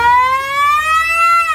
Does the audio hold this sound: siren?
yes